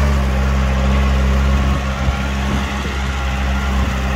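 A VST Shakti 927 power tiller engine runs steadily in first gear, a loud, continuous low diesel thrum with a constant droning hum throughout.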